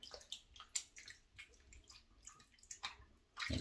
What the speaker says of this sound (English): Get my sink full of water.